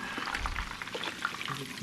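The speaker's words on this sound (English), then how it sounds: "Got our sizzling going." Egg foo young frying on a stovetop burner, a steady close sizzle and crackle of hot oil running throughout without a break.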